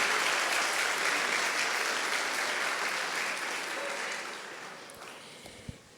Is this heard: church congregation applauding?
yes